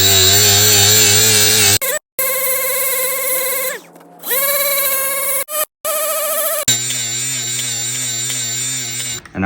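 A power tool with a medium-soft quick-mount abrasive polishes a warped putter, giving a loud, steady high whine that cuts off briefly several times and then resumes.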